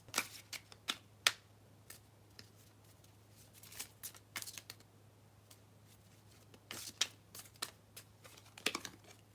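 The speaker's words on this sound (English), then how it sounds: "let me pull these relationship cards" A deck of tarot relationship cards being shuffled by hand, with crisp riffling bursts and flicks in irregular clusters, close and clear against a quiet, steady background hum.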